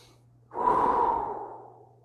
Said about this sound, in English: Couple big breaths.